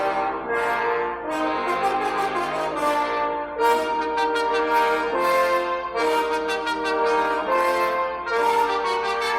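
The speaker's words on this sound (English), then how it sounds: "Together, the brass section sounds like this." An orchestral brass section of trumpets and horns plays together in rich, sustained chords with swelling phrases and brief breaks between them, loud and full with no talking.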